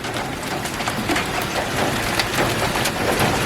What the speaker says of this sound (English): They were calling for golf ball size hail, and here it comes.